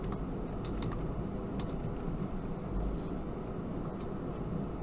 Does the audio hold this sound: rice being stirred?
no